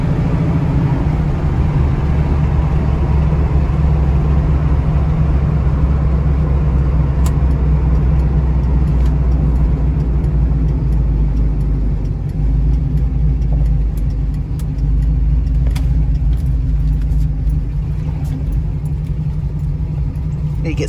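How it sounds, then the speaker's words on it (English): A Chevrolet El Camino drives along with a steady, loud low engine drone and road rumble filling the interior, holding fairly even throughout. "El Camino driving good."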